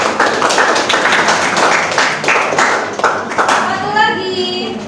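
A classroom of students claps hands together in a dense, loud burst of applause lasting several seconds, then tapering off while a voice talks briefly at the end.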